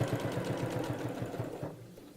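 A sewing machine stitches piping in a steady, fast rhythmic whirr that slows and stops near the end, close and alone.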